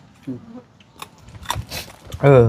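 Crunchy food is bitten and chewed up close, a few sharp crisp crunches scattered over two seconds, followed by a voice speaking at the end.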